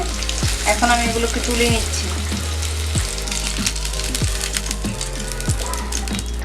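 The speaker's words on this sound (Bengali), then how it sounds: "এখন আমি মাছগুলোকে হালকা তেলিয়ে নিব মানে ফ্রাই করে নিব" Hilsa fish pieces coated with turmeric and salt sizzling in oil, a steady frying hiss with repeated spatula clinks and scrapes as pieces are lifted out, while a person talks over it.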